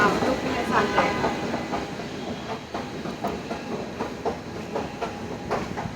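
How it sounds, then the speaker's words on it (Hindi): Delhi metro train running, a steady rumbling rail noise with repeated clicking bursts throughout, fairly close, with faint voices in the background. "मेट्रो गाड़ी तो चल रही"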